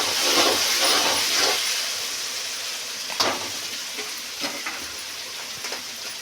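Tomato paste frying and sizzling in a pan with mutton keema, a steady broadband hiss with occasional stirring clatters, close and alone.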